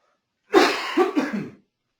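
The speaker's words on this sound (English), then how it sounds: "Sorry guys, I have to cough again" A single close, harsh cough breaks into a few rough bursts, then stops, in an otherwise quiet room.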